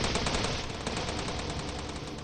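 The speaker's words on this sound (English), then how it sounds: "The laptop and hard drive were hit with more gunfire than possibly could have been necessary." Sustained rapid gunfire, dense overlapping automatic bursts with no pauses, loud and continuous, in the style of game combat audio, from the game Steins;Gate 0.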